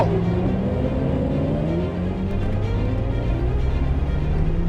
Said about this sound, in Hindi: गाड़ी रोको तानिया।